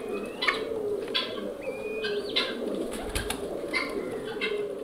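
Pigeons coo on an integrated farm, soft repeated throaty calls near and moderately loud, mixed with a few chirps and light rustling, with no talking.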